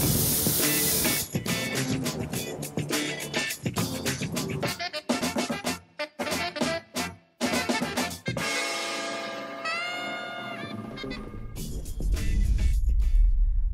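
A compressed air nozzle blows air into a bicycle handlebar grip, loud sharp hissing bursts in quick sputtering pulses, then a longer sustained blast with shifting whistling tones near the end.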